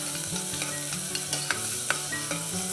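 Onion and cumin seeds sauté in oil, a soft continuous sizzle broken by a few light spoon taps and scrapes against the pan, close and quiet, with no voices.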